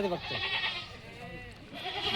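A goat gives a wavering bleat up close, the call trembling before fading, and a second bleat begins at the end over low background noise.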